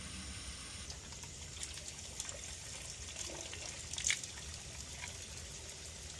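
Water running into a resin filter tank, a faint steady trickling rush with small gurgles and a brief louder splash near the end, no talk.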